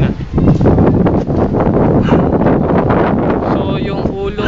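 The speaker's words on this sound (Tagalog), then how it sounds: "Mahangin." Strong wind buffets an outdoor microphone beside a tall garage, a loud continuous rumble with gusty swells throughout, a voice partly audible beneath it.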